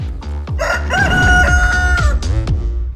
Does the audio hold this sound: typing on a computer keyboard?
no